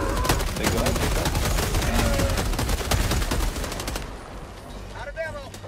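Rapid automatic gunfire rattles nonstop in Helldivers 2 while fighting bugs, dense and loud, then thins out as the firing stops, with game effects and a voice briefly audible beneath.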